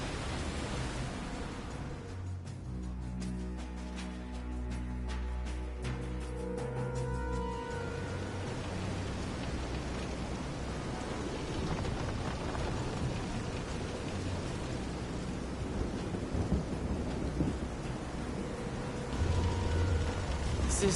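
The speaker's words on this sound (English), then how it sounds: "This is some storm." A steady storm wash of rain and rumbling thunder in Visions of Mana, loud and continuous throughout, with musical tones layered over it early on.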